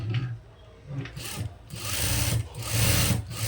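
An electric sewing machine runs in bursts, stitching a pocket seam on a chudi pant, its motor whirring loud and close with brief pauses between runs.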